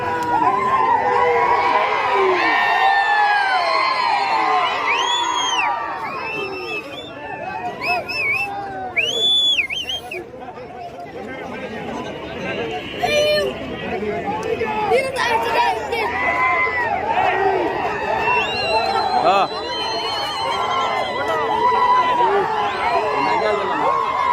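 A large outdoor crowd at a bull pulling competition roars with continuous cheering, shouting and chatter that stays loud and dense throughout, with scattered voices rising above the hubbub.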